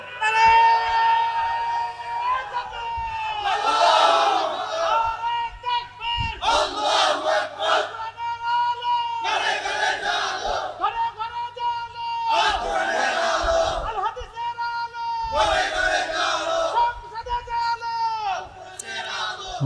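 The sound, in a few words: crowd chanting takbir at religious gathering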